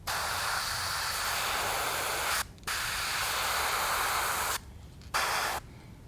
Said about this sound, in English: My airbrush is spitting.